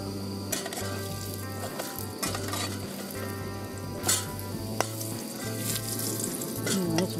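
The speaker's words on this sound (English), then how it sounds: "Okay, she is frying in the pan." Food sizzles and fries steadily in a pan over a camp stove at an overnight campsite in a hut carpark, a continuous close crackle with a low hum beneath and an occasional faint clink.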